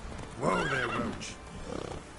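Horse neighing once in The Witcher 3 video game, a loud close whinny followed by faint hoof clatter.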